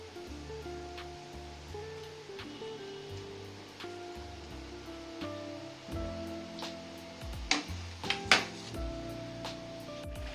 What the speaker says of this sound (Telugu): కొంచెం కొంచెం ఆయిల్లో వేసుకొని జాగ్రత్తగా వేయించుకొని తీసేయండి